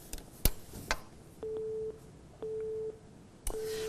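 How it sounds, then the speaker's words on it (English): A telephone busy signal after a dropped call: three repeated steady tones, each about half a second long, evenly spaced and separated by clicks and line noise, with no talking. "I think we lost Joshua on the phone line."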